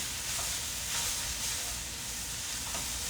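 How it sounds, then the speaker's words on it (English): Cumin lentil rice pilaf is stirred around a hot pan, giving a dense, steady sizzle with faint repeated scrapes of the spoon, close and even throughout, with no voices. "We are going to stir that in and around"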